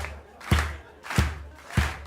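An audience at a live Irish spring festival in Tübingen claps hands in rhythm, three loud collective claps at an even pace with crowd noise between.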